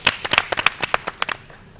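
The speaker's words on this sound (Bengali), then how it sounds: "আমরা একটা হাততালি দিই।" A small group claps hands at an Eid program, about a dozen sharp, uneven claps over roughly a second and a half, fairly close, then fading out.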